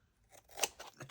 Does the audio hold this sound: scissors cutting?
yes